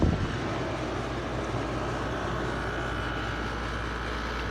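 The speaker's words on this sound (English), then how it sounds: "Hear that compressor?" An LG window air conditioner's compressor runs with a steady, close, broadband hum and low drone that holds constant throughout, with no speech over it.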